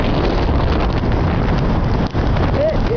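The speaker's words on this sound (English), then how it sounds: "See the wind?" Strong winter storm wind buffeting the microphone outdoors, a loud continuous roar that persists throughout the clip.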